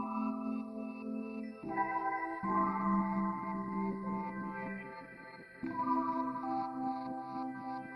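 Processed soul music sample run through a phaser, filter and shimmer, with a few reversed fragments, playing as sustained layered tones that shift in sections, steady and fairly loud with no talking.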